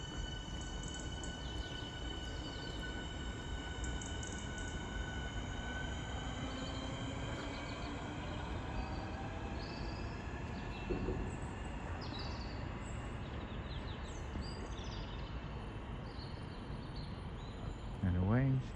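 A Southeastern train departs Bromley South station on the South Eastern Main Line with a low, steady rumble and rolling rail noise, some faint wheel squeal and tonal whine, heard from the platform at a moderate distance, with birds faintly in the background.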